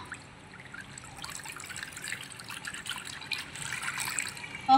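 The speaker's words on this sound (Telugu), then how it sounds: "పాలు ఒక కప్పు పోద్దాం." A cup of milk pours into a pan set on a stove, a soft, close trickle and splash that builds gently over a few seconds, with no voices.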